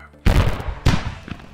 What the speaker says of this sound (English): Follow the fireworks.